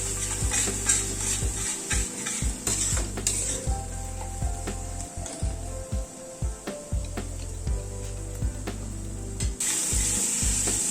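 Spice paste for a lobia curry sizzles and fries in a pan over a medium gas flame, with a steady close sizzle broken by repeated scraping and stirring strokes of a spoon against the pan.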